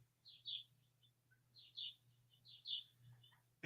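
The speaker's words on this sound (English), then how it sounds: "I hear a bird chirping." A small bird chirps outside an open window in three quick bursts of high, thin tweets spaced about a second apart, faint and distant over a low steady room hum.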